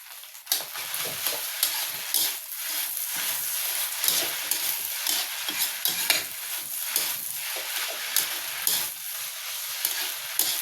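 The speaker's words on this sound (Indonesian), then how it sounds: "Sekarang saya masukkan bahan-bahan dia sedikit nih, sus tiram sedikit saja" Loud, continuous sizzling in a hot pan during stir-frying with oyster sauce added, with a utensil repeatedly scraping and tossing the food close by and no pause throughout.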